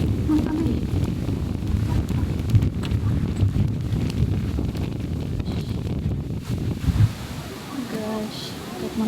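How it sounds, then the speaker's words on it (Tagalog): Strong typhoon wind gusting steadily across a beach cove, roaring and buffeting close to the microphone, with people talking over it throughout. "sobrang hangin, grabe ano"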